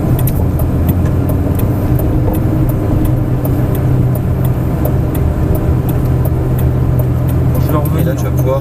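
Lamborghini Gallardo rolling slowly into a racetrack pit lane, a steady, loud, close engine drone with constant level and no speech over it.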